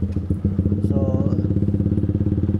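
A motorcycle engine idles and revs close by as it leaves through a gate, giving a steady rapid putter that dips briefly, then settles into a rhythmic pulsing run, with a short faint tonal chirp over it.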